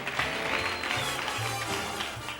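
Steady applause from a television studio audience at a talk show, sustained and fairly even, heard at moderate distance with a dense wash of clapping.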